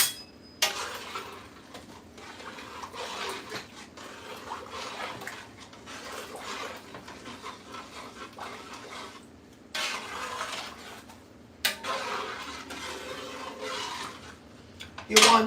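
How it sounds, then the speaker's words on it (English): Spoon scraping and clinking against a cooking pot while food is stirred in a home kitchen, soft irregular scrapes and knocks in bursts, fairly quiet and close with no talking. "Alright, so I'm gonna give it a good stir."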